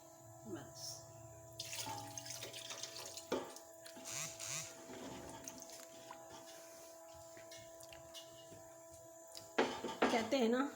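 Water poured into a pot of potato curry (aloo salan) in a home kitchen, a faint splashing trickle with clatter from cookware and a louder burst near the end, under speech.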